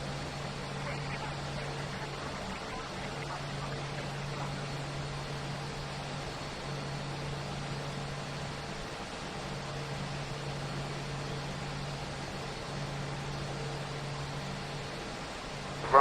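The auxiliary power unit of an Aerosoft Airbus A320 in the FSX Steam Edition flight simulator runs as a steady, even low hum and whir that stays constant, ending with a short sharp click.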